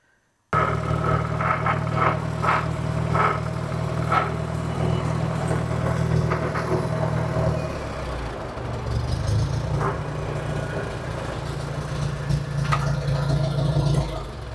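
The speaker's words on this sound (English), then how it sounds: "Let's get the tractor back to the shed." A diesel tractor engine chugs at a low, steady rumble while driving, easing down then picking back up, with occasional rattles and clicks nearby.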